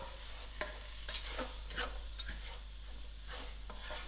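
Tiny beans coated in masala frying in a pan, with a steady close sizzle and several short scraping stirs running through about four seconds, no talking.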